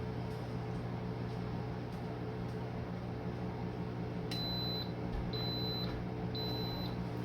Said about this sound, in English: So now you'll hear a beep, beep, beep